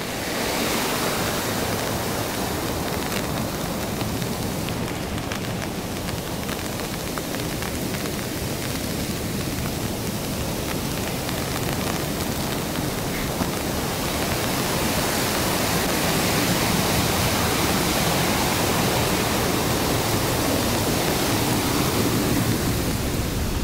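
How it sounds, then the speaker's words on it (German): Leuenfall waterfall in flood with high water roars continuously and close, a dense, even rushing wash that holds steady throughout with no voices. "der Wasserfall hat ein bisschen mehr Wasser als sonst"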